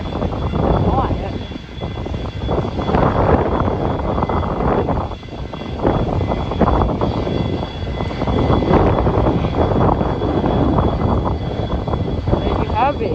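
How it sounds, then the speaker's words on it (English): Engine noise from a Transair Boeing 737-200 jet at windy Honolulu airport, a loud continuous roar filling the whole clip with wind buffeting, while people talk over it. "Transair 737-200 again. This time it's N737CX."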